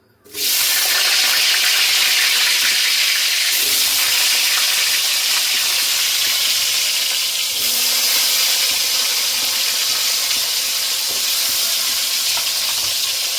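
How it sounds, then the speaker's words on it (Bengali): Potatoes are dropped into hot oil, setting off a sudden loud burst of sizzling that settles into a steady, close, hissing fry for the rest of the scene. "প্রথমে আলুটা দিয়ে দিচ্ছি, দেখুন তেল গরম হয়ে গেছে, আলুটা দিয়ে দেবো"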